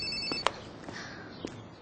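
A telephone rings in a Korean radio drama, with a few short, bright electronic ring tones that are separated by brief pauses and sound fairly quiet and close.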